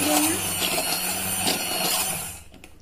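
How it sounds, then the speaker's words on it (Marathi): A kitchen blender whirs loudly and steadily as it purées a cooked tomato mixture for tomato soup, the motor drone holding constant before cutting off abruptly near the end. "आता आपण हे शिजलेल्या टोमॅटोचं मिश्रण छान ब्लेंडरने"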